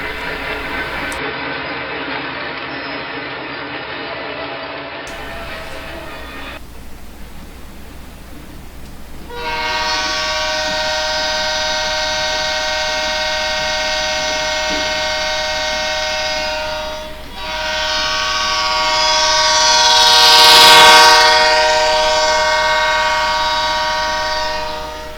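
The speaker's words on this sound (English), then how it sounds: "We are watching Penn Central train KM13, Kingsport to Mayfield, roll through West Mill." Penn Central local freight train KM13, Kingsport to Mayfield, rolling through West Mill, sounding long chorded horn blasts over a steady rail rumble, the horn swelling loudest near the end.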